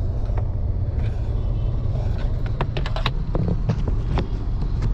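A Tata Altroz CNG hatchback running on petrol mode with the fuel nearly empty gives a steady, close low engine rumble throughout, with scattered light clicks and ticks over it.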